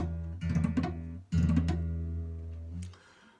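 Two guitar chords strummed close up with flat fingers instead of fingertips, sounding muted and buzzy rather than ringing clearly, the second sustaining briefly before fading.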